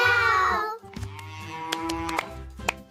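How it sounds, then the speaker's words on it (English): A cow moos nearby, a single drawn-out low call over a light musical background with no talking. "This is a cow."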